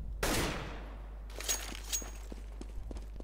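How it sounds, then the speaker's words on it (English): A weapon fires in the game Counter-Strike: Global Offensive. One sharp shot rings out with a decaying tail, and a second quicker burst follows a moment later, both fairly near. No voices are heard. "Then, shoot any weapon."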